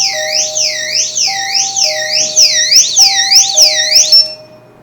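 A driveway property alarm gives a loud, close electronic siren, a warbling tone sweeping up and down repeatedly over a steady beeping pattern, then cuts off abruptly.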